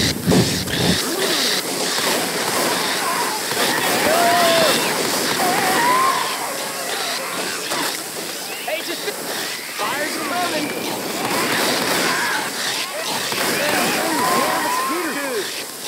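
Wet splashing and sloshing of Spitter acid goo in Left 4 Dead's Dark Carnival campaign, a constant loud liquid wash filling the scene while players talk over it.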